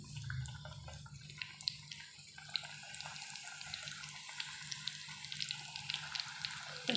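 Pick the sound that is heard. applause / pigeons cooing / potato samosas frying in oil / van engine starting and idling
potato samosas frying in oil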